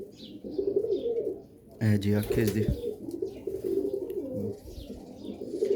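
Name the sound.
pigeon cooing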